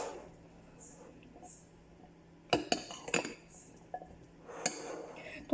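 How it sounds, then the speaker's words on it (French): A spoon mixing microwave dough with curry powder in a bowl, heard as a few sharp clinks and scrapes against the bowl amid quiet background and faint room noise. "on essaye de bien mélanger pour que ça soit un peu bien réparti."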